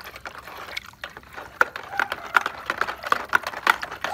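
A small amount of pool cleaning product, about 30 ml, is stirred into outdoor swimming pool water by hand: soft liquid swishing with scattered light clicks and splashes, fairly close and moderate in level, with no talking.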